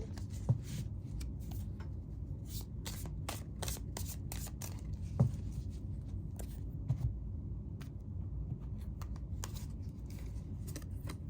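Tarot cards being shuffled and drawn for a reading, with quick crisp riffles and slaps in irregular bursts over a steady low room hum, close and soft.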